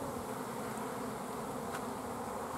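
A swarm of honey bees leaving the hive in the rain makes a dense, steady buzzing hum that fills the air, continuous and fairly loud with no voices.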